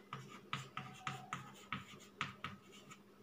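Steady strokes of writing on a board during a Hindi-language class 9 maths lesson on polynomial factors, with rhythmic scratching taps in quick succession, close and fairly clear with no talking.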